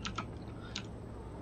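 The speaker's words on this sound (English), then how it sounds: "sorry if you can hear my, freaking keyboard. My mic is next to my keyboard." A few quick keyboard key clicks up close, then faint room hiss; sparse typing taps rather than continuous clatter.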